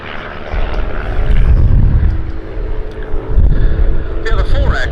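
Aerobatic aircraft rolling overhead at the Duxford Summer Air Show, June 2022, give a loud, sustained engine drone and rumble that swells and eases throughout, with a brief higher whine near the end.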